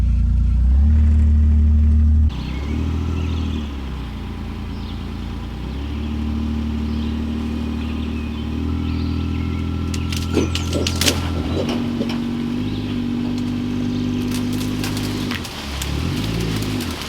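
A four-wheel-drive vehicle's engine runs steadily and close by while pulling trees away from a barn, with a sustained mid-pitched drone, slight revving changes, and a few faint clanks partway through.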